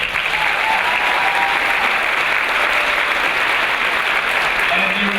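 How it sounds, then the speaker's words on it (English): A large audience claps in a loud, dense, sustained round of applause that stays steady throughout. "please join me again in a huge round of applause"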